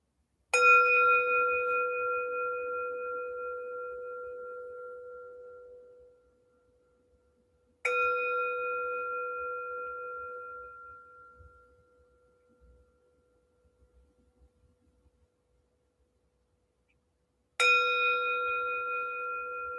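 A meditation bell is struck three times, each a clear ringing tone that decays slowly over several seconds with long quiet gaps between strikes, alone and without talk.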